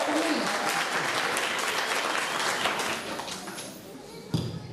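An audience at a school book bag giveaway applauds a superintendent, with dense clapping that tapers off toward the end, followed by a single thump near the close.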